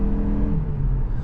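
A 2025 Mazda CX-50 Hybrid with a CVT accelerates at full throttle, its engine droning loudly and steadily with a rising hum, heard close from inside the cabin without talk.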